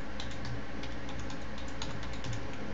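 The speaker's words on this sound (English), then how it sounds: "type in web browser" Typing on a computer keyboard while entering code in Visual Basic 2008 Express: quick, soft keystrokes in an even run over a steady background hiss, with no talking.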